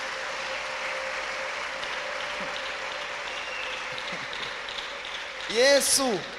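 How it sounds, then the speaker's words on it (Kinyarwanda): An audience at an evening church gathering claps in a sustained, even patter of applause, and a preacher's voice rises loudly over the clapping near the end. "Mumukomera amashyi."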